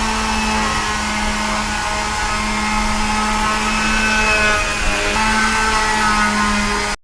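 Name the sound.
polishing a cricket bat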